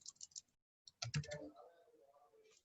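Computer keyboard typing while entering values into an Excel spreadsheet: a few quick key clicks, a short pause, then a denser burst of keystrokes trailing off into quieter sound.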